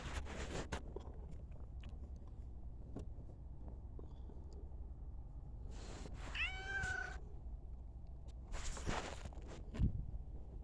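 A cat meows several times outdoors, a short series of clear calls mid-clip, with footsteps, light rustling and a passing car in the background.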